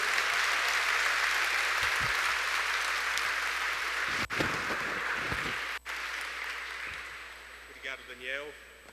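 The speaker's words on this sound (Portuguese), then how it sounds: "Uma salva de palmas" Audience at a happiness congress lecture gives sustained applause for a speaker, a dense continuous wash of clapping from a crowd, with a few louder bumps and brief talk near the end.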